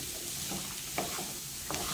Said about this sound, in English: And also just stir to coat and kind of combine everything.